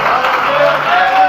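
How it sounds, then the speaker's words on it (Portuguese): A church congregation applauding during a Sunday morning service, a steady wash of many hands clapping at once, loud and continuous, with crowd voices mixed in. "Você pode aplaudir e exaltar a Deus nessa manhã"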